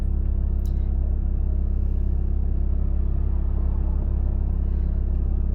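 A car on a driving exam route, a hard test route, holds a steady low engine rumble and road noise throughout at a constant, moderate level with no obvious revving.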